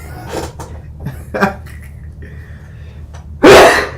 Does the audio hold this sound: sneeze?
yes